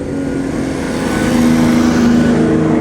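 A classic Lancia rolls past at the Pebble Beach Concours, its engine a loud, steady drone that swells slightly as it draws near, heard close up with no talking over it.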